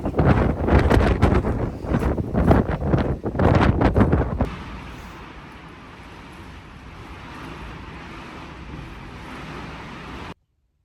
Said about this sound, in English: The wind is mental today.